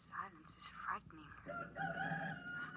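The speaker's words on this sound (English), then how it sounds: "It sounds like a rooster." A rooster crowing, a single drawn-out call rising over faint background sound and brief voices, heard at moderate distance in a quiet, desolate setting.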